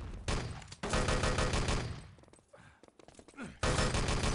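Rapid bursts of automatic gunfire from an Enemy Territory match, loud and near, with short gaps and a faint voice briefly in the middle.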